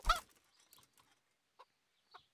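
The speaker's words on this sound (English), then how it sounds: "This is a wild chicken." A wild chicken in the video game Kingdom Come Deliverance gives a few quiet, short clucks after an opening thump, spaced out and faint against near silence.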